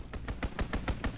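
Machine-gun fire from an enemy strafing run in Call of Duty: WWII, Aachen map: a loud, close burst of about seven rapid, evenly spaced shots.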